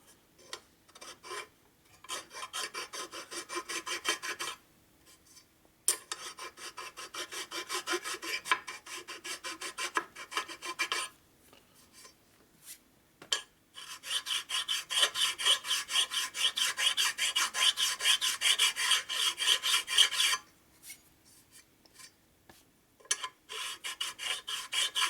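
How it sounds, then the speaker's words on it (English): A bowed metal file pushed across the aluminum engine case of a 1977 1000cc Ironhead Sportster street tracker, giving repeated close, dry rasping strokes in bursts of several seconds with brief silent pauses between them. "I'm pushing the file down right now"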